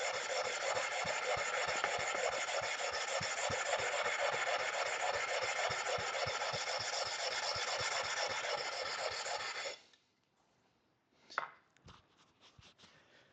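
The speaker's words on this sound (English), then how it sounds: "You do this, you flatten out your stone." Steady rasping scrape of a knife sharpening stone being flattened, a continuous rhythmic grinding stroke that runs loud and close for about ten seconds, then stops, leaving near silence broken by a couple of faint knocks.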